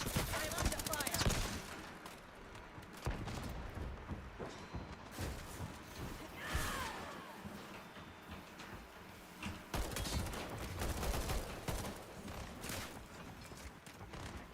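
Gunfire in a video game firefight: repeated sharp bursts and rapid volleys crackle over a steady, busy background, loud at the start and recurring in clusters throughout.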